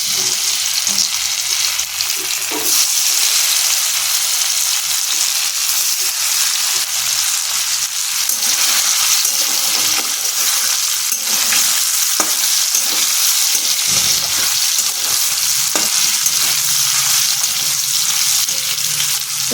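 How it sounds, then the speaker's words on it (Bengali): Paneer cubes frying in a hot pan for a vegetarian biryani give a steady, loud sizzle, with occasional stirring clatter throughout and no voices. "এবার এর মধ্যে আমি প্রথমে পনিরগুলোকে ভেজে নেব।"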